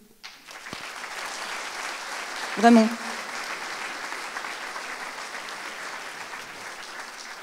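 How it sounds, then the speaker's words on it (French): An audience at a popular conference applauds itself, sustained moderate clapping that fills the room throughout, with a brief spoken word near the start. "Je pense que vous pouvez vous applaudir."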